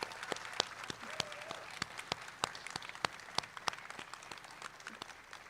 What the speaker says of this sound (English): please, can we have one more round of applause?